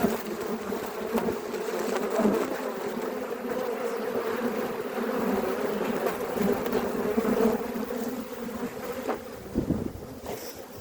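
Dense, steady buzzing of many honeybees at a hive, continuous and close, with faint wind noise and no voices.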